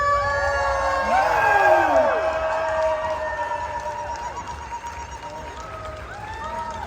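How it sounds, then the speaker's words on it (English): Comic-Con crowd at a Brussels panel cheering loudly as two guests come on stage, with whoops and shouts over steady clapping that stays strong and slowly eases off. "You guys are going to go crazy, you're going to keep clapping till they're out."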